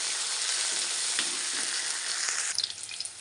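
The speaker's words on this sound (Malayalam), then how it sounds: "കടുക് പൊട്ടി വരുന്ന സമയത്ത് ഇതിലേക്ക് കറിവേപ്പിലയും 2 പച്ചമുളകും 2 വറ്റൽമുളകും കഷ്ണങ്ങളാക്കിയിട്ട് ചേർത്ത് കൊടുക്കുക." Mustard seeds, curry leaves and broken green and dried red chillies frying in hot oil for a sambar make a dense, loud, close sizzle. Scattered pops and crackles stand out toward the end, with no talking.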